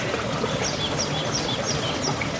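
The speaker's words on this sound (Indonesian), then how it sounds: "suara gemericik air mengiringi suasana damai ini" Water murmurs and trickles steadily at a calm river fishing spot with a simple wooden dock, a continuous close babble with faint chirping birds above it.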